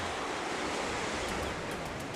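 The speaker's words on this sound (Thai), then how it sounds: "เช้าวันนี้เราเดินทางมาที่ ท่าเทียบเรือแหลมสนจังหวัดระนอง" Seaside waves wash at the Laem Son boat pier in Ranong, Thailand, in the morning. The surf makes a steady, broad rushing wash at low volume, with no voices.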